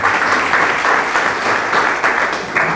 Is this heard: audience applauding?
yes